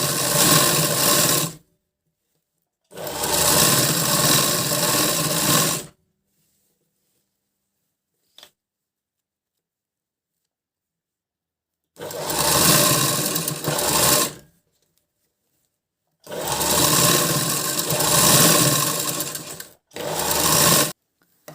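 Sewing machine stitching a blouse, loud close bursts of rapid needle clatter lasting a few seconds each, separated by silent pauses, one short click in a gap, no talk.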